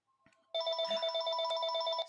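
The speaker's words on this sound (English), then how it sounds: "Excuse me, the phone's ringing." A telephone rings indoors in a rapid trilling electronic bell pattern, fairly close and clear, lasting about a second and a half after a few faint taps.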